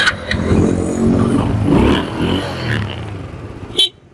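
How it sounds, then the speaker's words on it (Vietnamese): A Honda Dream motorcycle engine running and revving up close, loud and continuous with rising and falling surges, then cutting off abruptly near the end. "để hoàn tất tiếng máy cho anh em nghe thử luôn ha"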